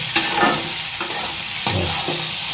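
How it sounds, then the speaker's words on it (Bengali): Yardlong beans frying in a pan with a steady close sizzle, broken by a few scraping stirs of a spatula over a short stretch, no voices. "এখন বরবটিটাকে ভাজি"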